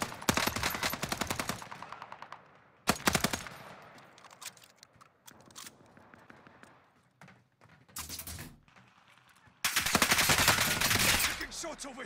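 Automatic gunfire in the Warzone video game: rapid bursts of shots, loud and close, interrupted by pauses and quieter stretches, with a long sustained volley near the end and occasional voices underneath.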